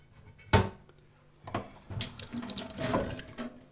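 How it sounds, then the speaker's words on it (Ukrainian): Warm water runs from a kitchen tap as a finger is wet under the stream, a steady splashing flow interrupted by a few sharp knocks and clatters at the sink. "Теплою водою мочу палець."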